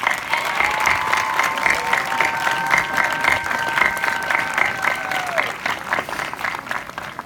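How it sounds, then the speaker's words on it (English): Graduating students and audience at a high school graduation ceremony applaud families, a loud, sustained patter of many hands with cheering voices and a sung or whistled tone riding over the clapping. "I'd like to ask all the students to join me in giving them a round of applause"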